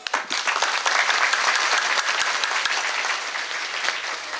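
An audience at a devotional kirtan gathering claps in a dense, steady burst of applause that holds at an even level throughout, with no talk over it.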